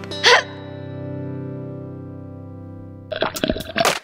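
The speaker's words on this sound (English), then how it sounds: "Nah, just a hiccup." A cartoon-style hiccup effect for a children's science lesson: one short, sharp burst, then a long wobbling tonal tail, ending in a few brief vocal sounds.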